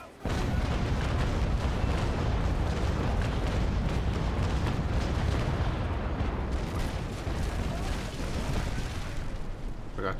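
Ship cannons in the naval combat game Naval Action keep up a dense, continuous broadside barrage of loud booming blasts with a rumbling low roar, running steadily for about ten seconds after a brief quiet start.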